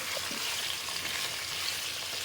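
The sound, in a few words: stirring seasoned chicken adobo in a pan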